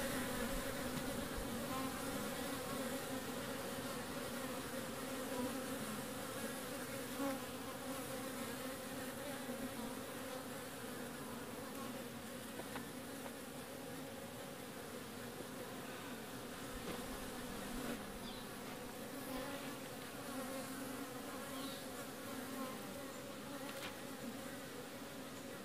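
Honey bees hum around a nucleus colony in an outdoor bee yard, a dense, even, continuous buzzing swarm at low level with no talk, holding steady throughout.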